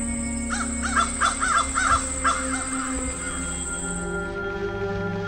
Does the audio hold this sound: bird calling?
yes